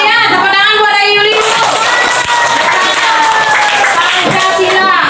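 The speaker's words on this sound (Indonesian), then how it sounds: "Tepuk tangan buat dari Yuli." Classmates clap and cheer for a student in a primary school classroom, a dense burst of applause with children's shouts mixed in, loud and close, while a teacher's voice talks over it.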